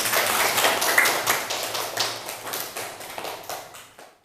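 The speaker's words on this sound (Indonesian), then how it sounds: "tepuk tangan untuk semuanya" A classroom of pupils applauds during an Al Qur'an Hadis lesson in Indonesia: dense, close clapping from many hands that starts at full strength and gradually thins and fades out over a few seconds, with no talk.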